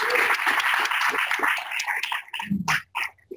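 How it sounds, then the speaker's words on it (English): Audience applause for the hackathon team Pinception at a Dynamo and Generative Design event in Toronto: dense clapping for about two seconds, fading into scattered claps and a few voices toward the end. "Round of applause for Pinception."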